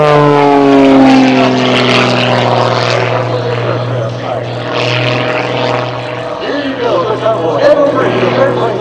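An Extra 300 aerobatic airplane at the 2018 Oshkosh airshow climbs into a tumble maneuver, its propeller engine droning loud and steady with a shifting pitch, while an announcer talks over it.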